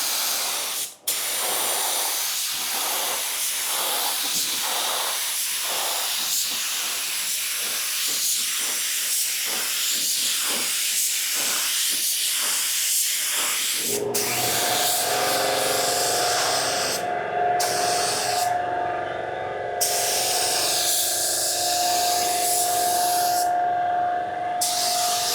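Paint spray gun laying clear coat on a car, a dozen rhythmic hissing bursts in regular passes, then a continuous steady spray with a tonal hiss, loud and close, with no talk.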